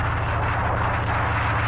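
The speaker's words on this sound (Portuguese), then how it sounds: "Nosso avião." Steady, droning airplane engine in BeamNG Drive, a continuous hum with a low, even pulse throughout.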